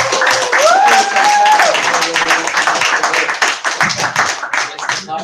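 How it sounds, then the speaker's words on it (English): Lively audience clapping at a Berlinale film screening fills the room, dense and close, with a whoop rising over it before the claps thin out and scattered voices take over. "you can give an applause now"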